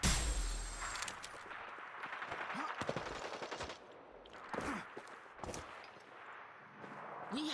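Rapid bursts of automatic gunfire from a Ripper gun in a shooter video game crackle in several loud volleys, separated by short pauses and a few sharp, ringing impacts.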